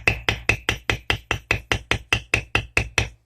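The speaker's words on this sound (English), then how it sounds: "You can use the little wooden hammer." Fourteen sharp, evenly spaced taps of a small wooden hammer on leather for a knife sheath, steady and quick, each a crisp knock close to the listener.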